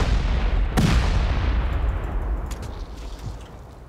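A C4 explosion in a survival video game: one sharp, heavy blast close by, followed by a long rumbling decay and a few faint distant pops, with no speech.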